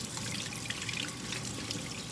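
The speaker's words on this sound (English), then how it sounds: "scrub it with like hot water or warm water, whichever you prefer" Hot tap water runs and trickles steadily while potatoes are scrubbed clean in a kitchen sink, a soft continuous wash with no voices.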